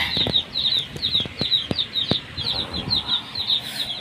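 Pet chickens kept at a barracks cluck repeatedly nearby, with sudden bursts of wings flapping mixed in.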